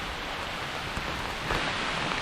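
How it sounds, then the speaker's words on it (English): Rain falls through the trees along a hiking trail on Stone Mountain, a steady close hiss that swells slightly heavier about halfway through, with no voices. "It's raining harder now."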